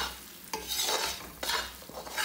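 A spoon scrapes and stirs a mixture with ghee in a heavy-bottomed kadhai, giving soft rhythmic scrapes and strokes over a faint sizzle, close and fairly quiet, with no talking.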